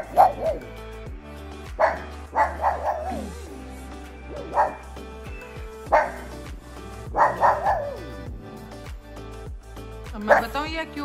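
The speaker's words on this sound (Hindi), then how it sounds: "क्यों भौंक रही है" A dog barks repeatedly in short bursts with yips and whimpers between them, fairly close, over a low background hum.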